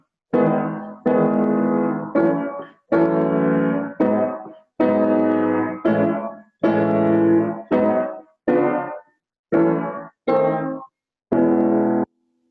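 Piano chords played in a syncopated swing comping pattern, short and long stabs with clear gaps between, loud and close, no voices.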